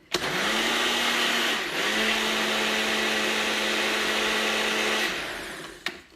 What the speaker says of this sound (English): I'm using quite a high-powered blender